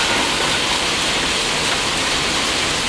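Heavy, steady rain pouring down, a dense hiss of drops hitting surfaces, loud and continuous with no voices.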